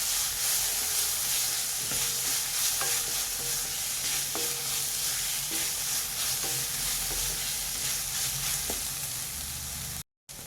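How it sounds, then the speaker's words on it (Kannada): Mushrooms fry in a pan with a continuous sizzle, and a spatula clinks and scrapes against the metal every second or so. The sound is moderately loud and even, with no talking, and it cuts out briefly near the end. "ಇದು ನನಗೆ ಚೆನ್ನಾಗಿ ಹಸಿ ವಾಸನೆ ಹೋಗೋವರೆಗೂ ಫ್ರೈ ಮಾಡ್ಕೊಳ್ಳಿ"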